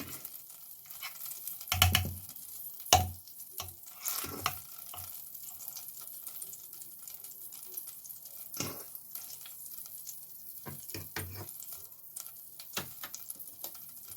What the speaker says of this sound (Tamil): இப்படி பட்டரில் தான் நான் ரோஸ்ட் பண்ணி எடுக்க போகிறேன்.